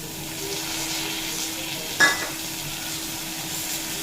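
Boiled chickpeas with turmeric and Kashmiri red chili powder sizzle in a pan, a steady moderate frying hiss with one brief knock of the utensil midway, close and with no talking.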